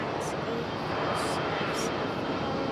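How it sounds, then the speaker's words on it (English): A United Airlines Boeing 737 MAX jet hums steadily at Raleigh-Durham airport as a fairly faint, continuous engine drone, with a few brief high-pitched ticks over it. "United Airlines 737 MAX"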